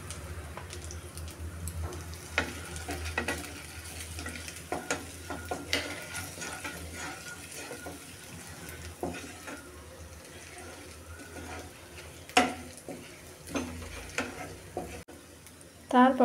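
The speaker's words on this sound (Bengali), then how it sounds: "এটা 2 মিনিট নাড়াচাড়া করে এর মধ্যে দিয়ে দেব কিছুটা হলুদ আর একটু লঙ্কার গুঁড়ি" Turmeric and chili powder are stirred and fried in a pan while cooking a fish fry, with a quiet sizzle broken by scraping clatters throughout.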